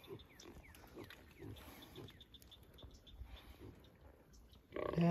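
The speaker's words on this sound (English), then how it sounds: "There's some of my pigs right here. Mama's feeding her babies." Pigs at a farm feeder, a sow nursing her piglets, make soft scattered grunts and squeals at low level, heard at a distance, before a louder burst of noise cuts in at the end.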